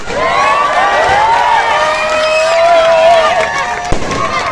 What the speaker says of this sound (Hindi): ये आतिशबाजी अगर बंद हो सकती है तो बंद कर दो